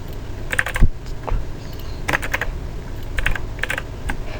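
Typing a name on a computer keyboard into a registration form, close irregular clusters of key clicks with a heavier thump near the start and short pauses between bursts, no talk.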